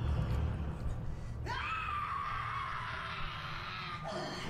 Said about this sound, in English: you don't have to scream at me